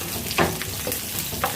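Garlic and onion sautéing in a pan for spare ribs caldereta, a close, steady sizzle with brief scrapes of a spatula stirring through it.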